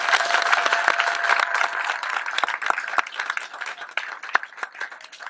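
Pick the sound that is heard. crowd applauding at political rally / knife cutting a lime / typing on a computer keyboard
crowd applauding at political rally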